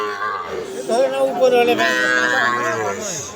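A cow moos loudly and close up at a cattle market, one long drawn-out low bellow rising and falling over a few seconds.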